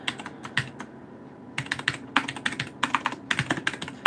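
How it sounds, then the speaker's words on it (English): Typing on a computer keyboard at close range, with irregular bursts of sharp clicking keystrokes broken by short pauses and no voices. "Sorry for the typing sounds."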